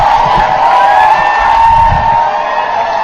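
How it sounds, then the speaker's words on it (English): A crowd outside Cambridge City Hall cheers as the first same-sex couples emerge with marriage applications, a loud, continuous wash of distant cheering and screaming. "You can hear the crowd going wild out over here."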